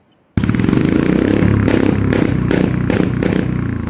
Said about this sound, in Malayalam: ഈ വണ്ടിയുടെ സൈലൻസർ കുറച്ച് സൗണ്ട് കൂടുതലാണ്